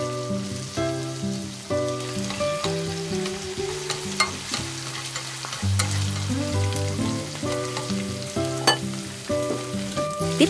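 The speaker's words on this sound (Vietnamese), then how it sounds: "Xào cho đến khi thịt nó săn lại." Marinated minced meat stir-fries with onion and garlic in a hot pan, a loud continuous crackling sizzle under repeated clanks and scrapes of a spatula moving the meat.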